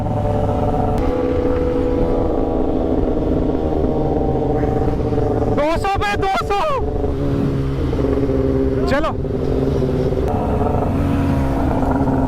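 A superbike is heard pulling hard at high speed, its engine note rising steadily through the gears, with a couple of sharp upward revving sweeps and someone talking over the steady roar.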